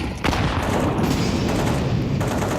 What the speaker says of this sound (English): On the ground, flashbang goes out.